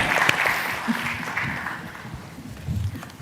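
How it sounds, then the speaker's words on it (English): Conference audience applauding a round-table panel, brief clapping that thins out quickly while a voice and stray room sounds come through. "A strong applause to the round table."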